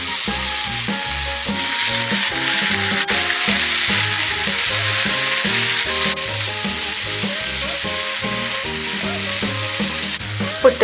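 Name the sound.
cooked green gram frying and being stirred in pan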